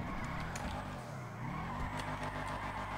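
A Nissan Skyline GTR R32 drifts in the FiveM driving game. Its tires give a continuous loud skid and squeal over a steady, droning engine for the whole stretch.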